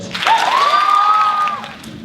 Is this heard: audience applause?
yes